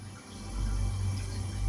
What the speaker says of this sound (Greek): Έλα πέτα λίγο νεράκι να πιούμε